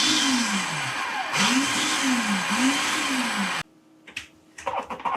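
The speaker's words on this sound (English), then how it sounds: "I'm gonna use a food processor to do this" A food processor runs loud and steady on rhubarb donut loaf batter, its motor whine cycling up and down, then cuts off abruptly into near silence broken by faint clatter.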